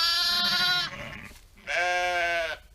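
A ewe bleating during lambing season, two loud, close, drawn-out harmonic bleats separated by a brief pause, with no talk over them.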